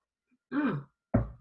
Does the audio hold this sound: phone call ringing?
no